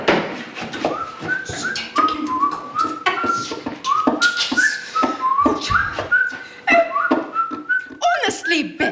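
A man whistles a lively, wandering tune, with rising and falling notes and short slides, close and clear against a quiet background.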